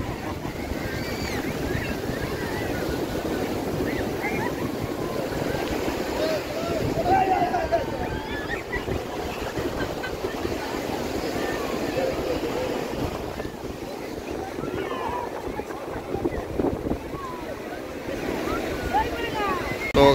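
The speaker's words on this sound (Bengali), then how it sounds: "আর এই ঢেউটা গাইস আসছে দেখো।" Ocean waves rolling and breaking on Puri beach, a steady broad wash of surf with wind noise, one wave swelling louder partway through, with voices faintly in the background.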